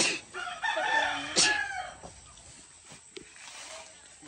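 A rooster crows loudly and close by, followed by quieter clucking and scattered farmyard noises.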